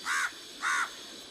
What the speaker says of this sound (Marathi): कावळा काव काव काव करायला लागलाय.